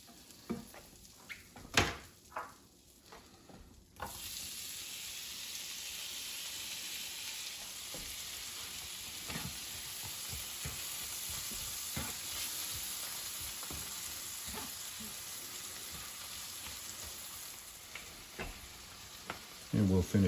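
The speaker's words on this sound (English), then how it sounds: "Deglazing the pan with real butter." Real butter hits a hot sausage pan to deglaze it, a few clanks giving way to a sudden, sustained loud sizzle that holds steady and close before fading slightly near the end, with a clatter at the finish.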